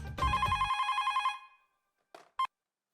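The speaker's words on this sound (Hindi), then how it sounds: "अब मैं भी सारिस मामा का फोन लगाता हूँ।" A telephone rings once with a long bright electronic trill, then falls silent before two short faint bursts of the ring return.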